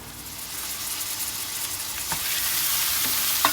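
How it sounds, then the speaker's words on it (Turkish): Onions frying in oil in a pot for an eggplant dish give a steady, close sizzle throughout, with a few faint clicks of stirring near the end. "Bir tencereye biraz yağ alıp üzerine soğanları alıp kavurmaya başladım."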